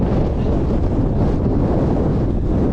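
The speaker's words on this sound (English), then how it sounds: "It's definitely a windy one." Strong wind roars steadily across the microphone on Carrock Fell in the Lake District, a constant heavy buffeting rush with no voices.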